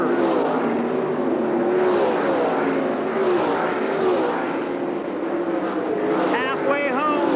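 World of Outlaws sprint cars race around Eldora Speedway's dirt oval in 1997, their engines a continuous loud roar that rises and falls as cars pass, under steady race commentary.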